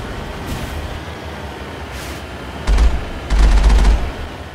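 Rapid bursts of gunfire in the Mass Effect video game, two loud clustered volleys close together near the end, with faint sporadic shots and a steady rumbling background before them.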